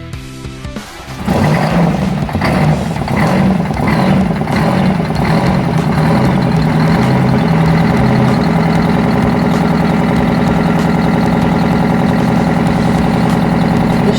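A 1979 Kenworth truck's Detroit 871 diesel engine starts and settles into a steady, loud, rumbling idle close by, its low throb continuous after a brief cranking burst at the start.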